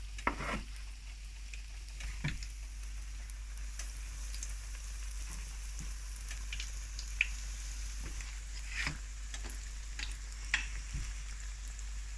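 Maori fried bread sizzles in a pan of hot oil with a steady, close crackle and hiss. Occasional pops and light clinks sit over a constant low hum.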